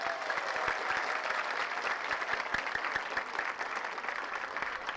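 An audience at a regional entrepreneurship congress applauds, a dense, even clatter of many hands clapping steadily throughout, moderately distant and with no voices above it.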